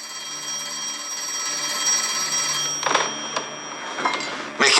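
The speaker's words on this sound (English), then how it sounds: "You should answer the phone, Mr." An old-fashioned telephone bell rings in a sustained, loud, bright trill, joined near the end by a few brief knocks or clatters, with no talking.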